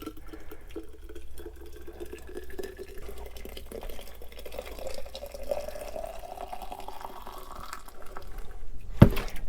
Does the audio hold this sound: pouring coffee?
yes